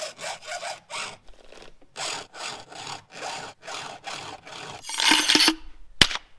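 A metal file rasps in short, regular back-and-forth strokes across the chain of a small chainsaw with a 16-inch bar, close up, ending with a sharp metallic clink.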